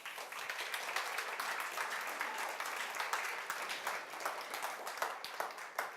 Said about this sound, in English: How about we give her a round of applause?